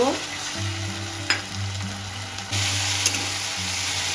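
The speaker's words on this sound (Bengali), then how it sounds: "যে আদা রসুনটা ভাজা ভাজা হয়ে গেছে" Ginger, garlic and green chili paste fries with browned onion in a pan, a close, steady sizzle with stirring scrapes over a low background hum that grows louder partway through.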